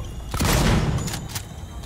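Gunfire in the Alien Isolation video game, a dense burst of shots swelling loud near the start and tapering into a rumbling tail.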